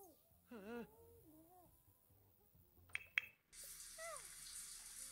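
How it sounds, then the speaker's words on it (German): A shower runs in The Sims 4 as a steady, fairly loud water hiss that starts midway, after chirpy sim vocal sounds and a couple of sharp clicks. "Achso, sie ist vergnügt unter der Dusche."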